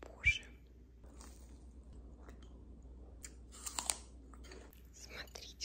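Someone quietly eats a crunchy chocolate snack warmed in a microwave, giving close, faint crunching and chewing bites, with a louder cluster of crunches partway through and soft breathy sounds in between.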